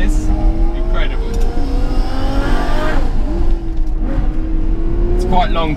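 A long-geared Ferrari FF engine revs hard and climbs through the gears, pitch rising and dropping at each shift, loud and close.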